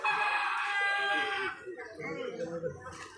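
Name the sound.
chickens clucking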